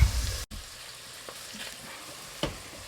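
Tomato soup with garlic simmers and cooks down in a pot, a soft continuous bubbling hiss with a brief clatter at the start and a small tap near the end.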